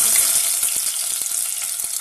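Onion sizzles in hot oil in a pan for tempering, a steady bright crackle with small sputtering pops and occasional stirring taps, close and alone.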